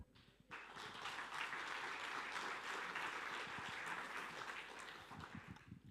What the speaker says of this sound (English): And I bet she felt that applause as well